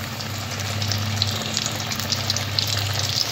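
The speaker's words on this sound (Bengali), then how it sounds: "এইভাবে সব চিকেনগুলো খুব লাল লাল করে ভেজে নেব।" Chicken strips frying crisp in oil over lowered gas, a steady close bubbling sizzle with a low hum beneath.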